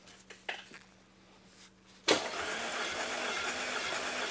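A 2009 Audi A4 2.0T engine cranking over during a compression test, a loud broadband churning that starts abruptly after a quiet stretch with faint clicks and continues steadily, without catching into a run.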